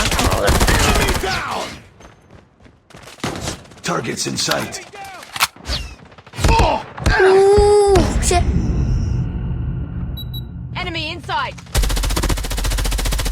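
Bursts of rapid game gunfire crack sharply between stretches of someone talking, with electronic effects and a sustained final volley.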